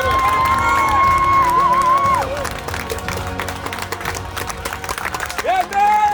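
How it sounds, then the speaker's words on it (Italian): An audience claps and cheers for walkers who have crossed the Strait of Messina on foot, the applause and shouts running under a sustained musical tone and a voice, busy and fairly loud throughout. "Facciamogli prendere un po' di meritati complimenti ed applausi."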